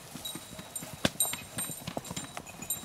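Horses walk on a hard surface, their hooves clip-clopping in an uneven, steady rhythm close by, with one sharp louder strike partway through.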